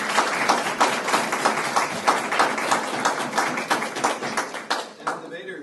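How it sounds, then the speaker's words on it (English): An audience claps for debate teams at an international friendship debate, a dense wash of applause with pulsing hand claps, tapering toward the end. "Let's give a warm round of applause for all the teams."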